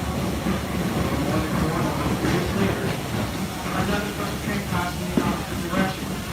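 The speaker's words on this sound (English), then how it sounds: "here's Strasburg Railroad switcher with one of their trains, the 8616" A Strasburg Railroad switcher locomotive rolls past pulling train 8616, a steady close rumble with faint wheel clatter and hiss throughout.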